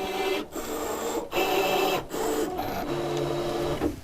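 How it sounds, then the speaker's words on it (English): A ScanNCut cutting machine tests the thickness of its mat and a small fabric square, then cuts, giving a steady mechanical whirr broken by short pauses and shifts in motor pitch, close up and alone. "When I hit start, the machine is going to test the thickness of the mat, it's going to go over to my little fabric square, test the thickness of that, and cut."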